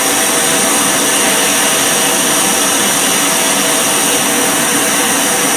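A furnace melting bismuth gives off a loud, steady roar that holds without a break from start to finish.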